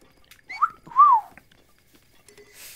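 Two short rising-and-falling whistles sound from a character in the video game Breath of the Wild, clear against a quiet background, followed by faint rustling.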